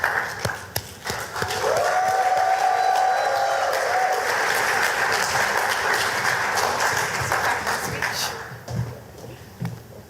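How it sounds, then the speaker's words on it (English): Conference audience applauding a speaker at a cultural and creative industries event: dense sustained clapping from a crowd, fading toward the end, with faint voices near the close. "you clap already? Clap again."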